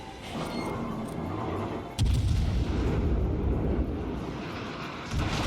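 A World of Warships battle, with a heavy warship artillery volley booming out at about two seconds over a constant low rumble of engine and sea ambience and no voices.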